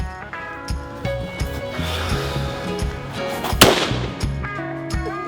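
A .300 Win Mag rifle fitted with a muzzle brake fires a single sharp, loud report that cracks out once over continuous background music.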